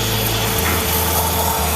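The steam wand of a DeLonghi Dedica espresso machine gives a loud, steady, close hiss of rushing steam with a low rumble beneath it, alone and unbroken.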